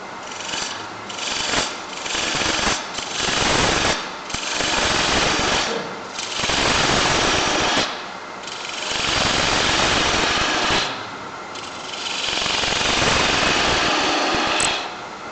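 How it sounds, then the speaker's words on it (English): A spindle or bowl gouge cuts spinning wood on a lathe, producing a loud, steady rough whir that surges and drops in short bursts as the tool meets and leaves the wood, with no talking. "it's just using your spinning gouge or your bowl gouge"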